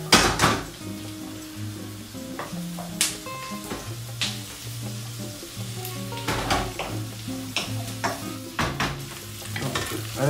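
A vegan, gluten-free tofu stir-fry sizzles in a pan while a utensil scrapes and stirs in irregular strokes, the frying hiss steady underneath and soft background music running throughout.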